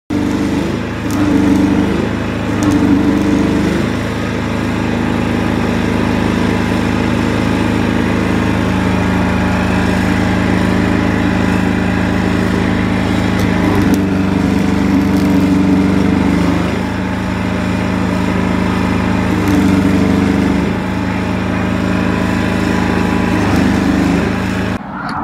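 A motorized grass trimmer cutting vegetation outdoors, its high, buzzing engine running loud and continuous for the whole stretch, with a pitch that dips and recovers at intervals as it bites into growth.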